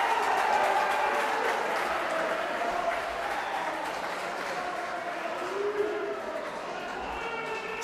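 Spectators cheer in a steady, continuous roar at a high school swim meet between Lakeville South and Eagan as a close race finishes at the touch, with an announcer talking over the crowd.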